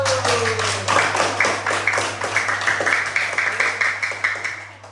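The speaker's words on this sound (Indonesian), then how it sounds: "Ya, tepuk tangan untuk kelompok 1." A classroom group claps for group 1, a steady rhythmic patter of many hands at close range, continuous over a low hum and tapering off at the end.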